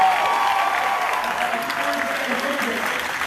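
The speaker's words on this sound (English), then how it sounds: "a big round of applause" A university lecture audience at an educational event on Kashmir applauds steadily, dense clapping filling the room for the whole stretch, with faint voices mixed underneath.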